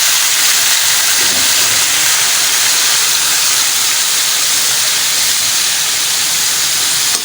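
Beef trotters (paya) sizzling in a pot, a loud, steady, unbroken frying hiss that holds even from start to finish with no talk over it.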